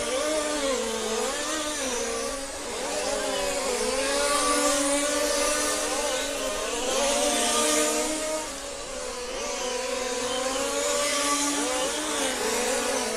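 Model Formula 1 race cars whine around a track in a Final A race, a steady high-pitched buzzing of several small engines with rising and falling pitch as they pass, continuous and fairly loud.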